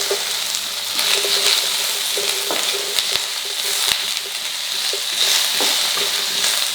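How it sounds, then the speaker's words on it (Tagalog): Onions and celery sautéing in a pan for a squid dish fill the whole span with a steady, close sizzle, broken by light scraping stirs and small clicks. "So itutuloy lang natin ang paggisa hanggang sa makita na natin na nagse-separate na yung mga layers ng sibuyas."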